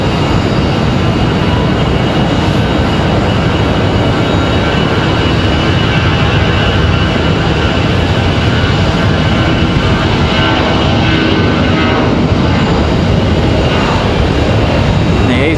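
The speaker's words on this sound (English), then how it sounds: "So that A320 out of here. They're headed back to Detroit, Michigan." A Delta Airbus A320 jet departing Raleigh-Durham airport for Detroit, a loud, continuous broadband engine roar that holds steady for the whole stretch with no voices over it.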